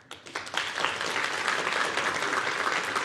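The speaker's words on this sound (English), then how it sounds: "big round of applause, Hannah" A room of listeners at a young scientist competition breaks into applause for a presenter, quickly swelling from a few claps into a dense, steady ovation.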